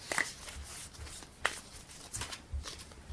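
A pack of playing cards is shuffled during a card magic trick, giving a few short, soft riffling bursts spaced apart, quiet and close, with no talking.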